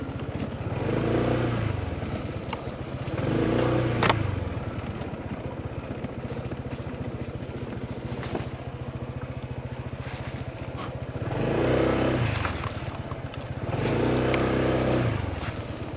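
A motorcycle engine idles and rumbles in the open under a mango tree on a lot, with two louder surges of revving and some clatter, fairly close.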